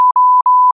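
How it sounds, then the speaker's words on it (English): A censor beep sound effect: one steady electronic tone at a single pitch lasting under a second, broken by two brief dropouts, loud and alone with no other sound. "the customer was a bit of a beep"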